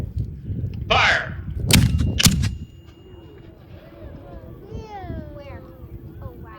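Civil War re-enactment mortar fire at Gettysburg: a sharp blast followed by a second close report, then a ringing tail. People talk nearby afterward.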